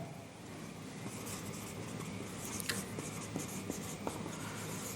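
Marker or chalk scratching on a board during a class 12 physics lesson, a steady run of short writing strokes close up against a faint background hum, with no talk.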